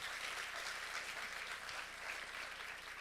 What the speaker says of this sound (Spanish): Dale un aplauso al Señor porque la iglesia de Jesucristo vencerá.